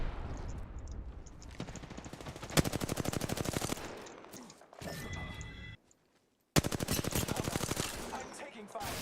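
Video game gunfire in rapid bursts of automatic fire, loud and close, with a short pause between volleys and a brief silence before firing resumes.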